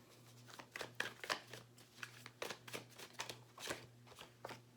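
Quiet, rapid riffling and soft slaps of tarot cards being shuffled by hand, a string of short papery bursts over a low steady hum.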